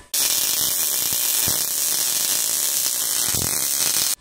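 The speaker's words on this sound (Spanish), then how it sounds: "Sigamos soldando." MIG/MAG welding a vertical-up butt joint on X-bevel steel plate, a steady loud crackling buzz running continuously with no talk.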